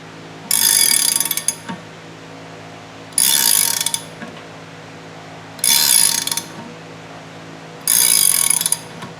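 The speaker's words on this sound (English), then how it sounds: "You heard that pop? Another one. That was the punch going through." A wrench ratcheting a manual punch tool through material, heard as four separate bursts of rapid clicking spaced about two seconds apart, each close and fairly loud, with quiet gaps between.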